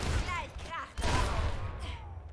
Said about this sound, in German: Zwei Schüsse auf Grivel Mike.